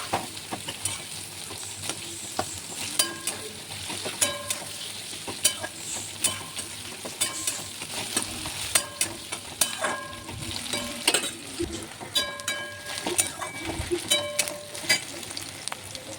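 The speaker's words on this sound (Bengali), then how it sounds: "পেঁয়াজটা আমি ভালো করে এখানে ভেজে নেবো লাল লাল করে।" Chopped onions frying in oil with whole spices, a steady close sizzle with frequent scraping stir strokes and clinks of a spoon against the pan, no talking.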